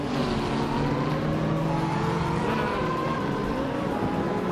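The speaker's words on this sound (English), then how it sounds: "Steve Jumper is driving a 1984 Porsche 962." Steady, continuous engine drone of a 1984 Porsche 962 race car in a racing video game, a loud sustained tone with shifting pitch as it runs flat out, no voices.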